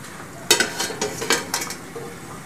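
Metal idli plates for foxtail millet idli being placed and handled, giving a quick burst of clinks and clatter followed by a few lighter knocks, close and with no talk.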